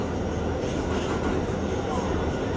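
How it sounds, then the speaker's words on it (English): An R211T walk-through subway car on its inaugural run rumbles loudly along the track, with a continuous dense roar and rattle, heard from inside the car. "this train is going slower than the R179 or the R46"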